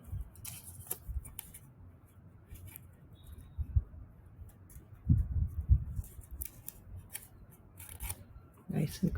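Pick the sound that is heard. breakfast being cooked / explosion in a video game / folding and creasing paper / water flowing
folding and creasing paper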